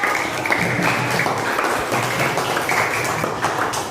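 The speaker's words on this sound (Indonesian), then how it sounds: "Tepuk tangannya untuk kita semua" A class of students applauds together after group presentations on regional cultures, a continuous wash of clapping hands filling the room with no clear pauses.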